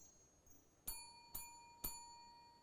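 Three bright metallic dings from a doorbell ringing at a house before dawn, evenly spaced about half a second apart, each with a sharp onset and a ringing tail, fairly quiet against a hushed background.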